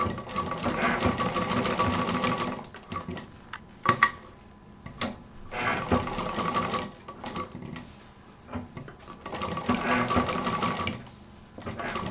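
A sewing machine stitches a fabric pouch in several loud, whirring bursts of a few seconds each, separated by brief pauses and light mechanical clicks.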